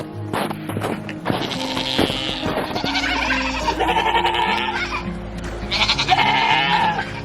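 Several goats bleat repeatedly inside a barn, loud and close, their calls overlapping with shuffling and rustling around them.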